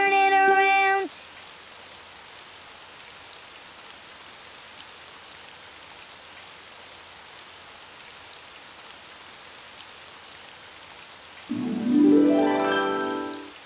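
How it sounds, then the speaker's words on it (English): Rain falls steadily outside in a Spanish-dubbed Daniel Tiger cartoon, a soft, even hiss through most of the stretch, framed by short bursts of music at the start and end. "It's raining outside."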